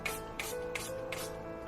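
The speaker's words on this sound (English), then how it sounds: "And finally, a little spray of alcohol." Four quick hissing spritzes of alcohol from a spray bottle onto cold process soap, evenly spaced and close by, with a faint hum underneath.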